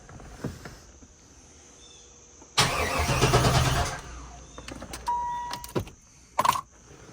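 A 1995 Pontiac Firebird engine with a suspected dead fuel pump cranks over for about a second and a half, a loud starter whir, with quieter clicks and key jingles before and after.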